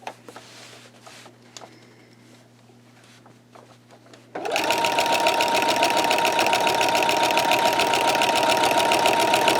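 A sewing machine fitted with a walking foot quilts steadily, starting after about four seconds of quiet and then running loud and continuous at an even, rapid stitching rhythm right up close.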